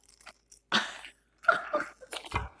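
Crunchy bites and chewing into a spicy Scotch egg come through as a few short, close crackling bursts separated by pauses, fairly quiet overall.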